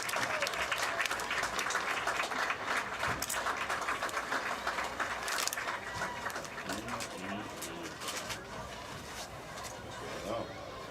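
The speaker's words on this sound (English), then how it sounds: "Let's have a nice round of applause for Joe." Sustained audience applause from a crowd at a Big Walnut High School football game induction ceremony, dense and steady for the whole stretch, easing slightly toward the end.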